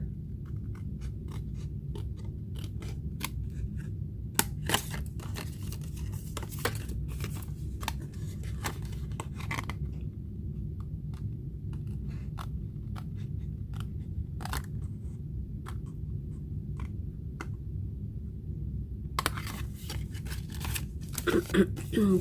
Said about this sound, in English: And then you can just cut this off.